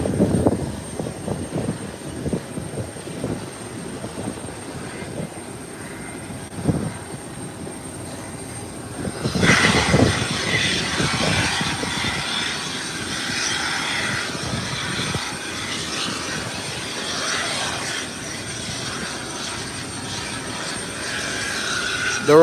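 An American Airlines airliner bound for Miami being pushed back at the airport. A low mechanical rumble is joined midway by a louder, steady broadband roar of aircraft noise that holds for the rest of the clip, with no voices.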